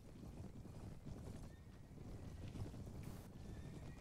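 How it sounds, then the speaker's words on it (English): A massed wall of cavalry horses charging in the medieval video game Perisno: a faint, distant rumble of many hooves, with whinnies rising out of a wind-like wash and no voices. "Now we have a huge ass wall of horses charging into these guys."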